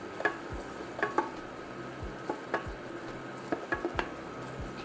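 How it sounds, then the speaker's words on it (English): A spoon stirs flour into a butter roux in a pot, producing faint scraping and soft knocks against the bottom at irregular intervals over a quiet sizzle, nearby with no voices. "Keep stirring the bottom, don't let it stick or burn."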